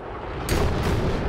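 A rocket launches in the video game Oxygen Not Included, a loud sudden rumbling roar that bursts in and holds as a dense, heavy blast, with no talk over it.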